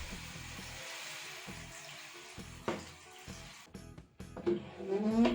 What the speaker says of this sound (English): After cleaning, be sure to rinse the glass with water.